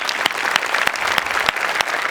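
A studio audience on a Marathi stage comedy show bursts into applause, a dense, steady patter of many hands clapping close by for the full two seconds with no voices over it.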